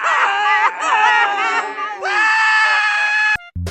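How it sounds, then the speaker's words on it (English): A cartoon boy lets out blood-curdling screams: long, loud, shrill, wavering yells in several bursts, close up and alone, ending in an abrupt cut. "Snotty Boy's blood-curdling screams soon got the attention of his parents"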